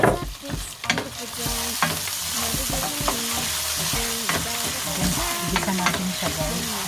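Onion and garlic sauté for ginataang manok, with loud close sizzling and a busy run of spatula scrapes and clanks against the pan throughout.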